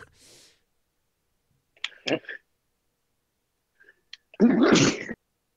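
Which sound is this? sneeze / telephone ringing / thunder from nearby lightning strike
sneeze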